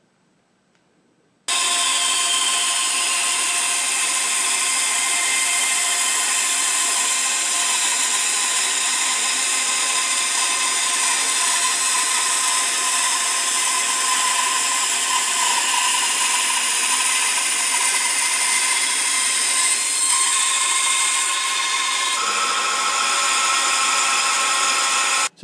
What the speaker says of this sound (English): we're going to proceed to split these in half with a bandsaw and then turn them down on the grinder